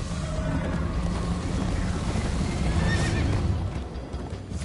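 A horse whinnies over a steady rumble of hooves and wind-like noise in the video game Minecraft: Story Mode, the galloping continuing throughout at a brisk pace.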